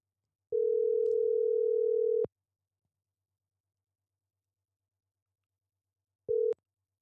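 Telephone dial tone sounding while a call is placed: one steady tone lasts about two seconds, then after a pause of silence a second short beep follows, clear and close.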